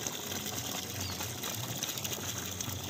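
A 3 hp PMSM solar pump pushes water out through a 1.5-inch delivery pipe at a farm in Natham, giving a steady, loud broadband rush and splash with a faint mechanical hum that continues without a break.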